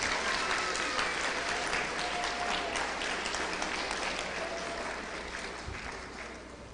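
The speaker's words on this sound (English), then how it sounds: "Let's give them one more round of applause" Audience applause at a school spring awards ceremony in an academy hall, a dense sustained clapping from a large crowd that fills the whole stretch and slowly thins toward the end.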